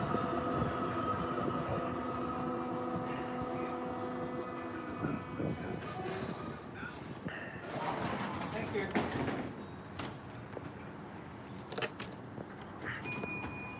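A tram idles at a terminus, its steady tonal hum and rumble fading as clanks, squeals and jangling rail sounds take over, with a person talking throughout.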